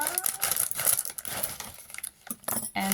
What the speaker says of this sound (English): what you can hear is my scissors, because I don't like to just rip out of everything